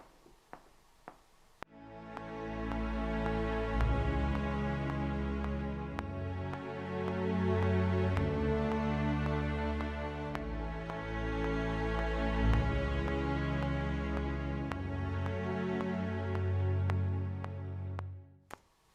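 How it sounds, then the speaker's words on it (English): A sustained, swelling low MIDI string bass line played alone, its dynamics controlled by a mod wheel, rising and falling in loudness over several slow phrases before stopping. "now we're going to record a bass line"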